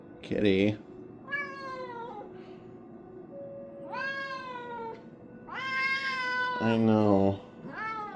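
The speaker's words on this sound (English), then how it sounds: "this is a stray cat that I'm trying to find a home for" A young stray cat meows several times in drawn-out, rising cries, close and fairly loud, with a person speaking softly between the calls.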